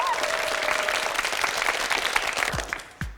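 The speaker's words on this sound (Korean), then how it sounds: "박수 보내주세요" A KBS quiz show studio audience applauds, a brief full burst of clapping that fades out near the end as a few low thumps break through.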